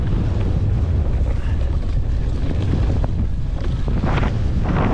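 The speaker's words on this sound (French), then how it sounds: "Il y a bien du vent aujourd'hui" Strong wind buffeting a microphone on a cross-country mountain bike course in Remiremont, a loud, constant roaring gust noise throughout with no clear voices.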